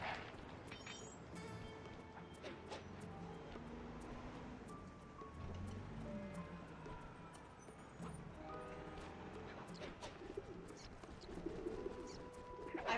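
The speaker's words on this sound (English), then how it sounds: "I've tried and no, you cannot hit the birds." Pigeons coo repeatedly in the video game Sly 2, soft throaty calls that keep sounding over a dense bed of game ambience and effects with sharp bursts scattered throughout.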